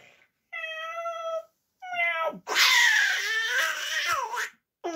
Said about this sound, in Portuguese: Um gatinho.